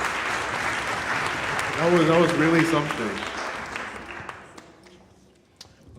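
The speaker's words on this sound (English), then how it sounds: "Can we get another round of applause for that fantastic performance?" An audience claps after a musical performance, a steady wash of applause that thins and fades out while someone speaks over it.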